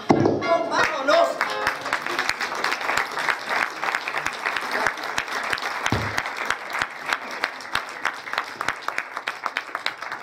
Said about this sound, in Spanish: fuertes aplausos por favor para esta pareja de poetas y actores, Juan Mario Mesa y Gaudí Arredondo